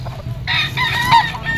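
A bull stag rooster crows loudly and close, a single drawn-out crow over low background murmur, with gamefowl around.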